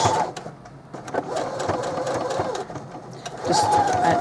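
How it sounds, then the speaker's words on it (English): Sewing machine making a short back stitch on a placemat pouch, a continuous close mechanical whir with rhythmic ticking and a faint pitched whine at the start and end. "I'm going to do a little back stitch"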